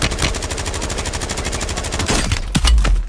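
Loud rapid automatic fire from an SMG in Call of Duty Warzone, a steady stream of close shots for about two seconds followed by a few heavier separate bangs, with no voices.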